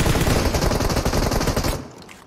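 Sustained machine gun fire in a squad-versus-squad shooter video game, a dense rapid burst of loud, close shots rattling nonstop for most of the stretch before cutting off into a short fading tail.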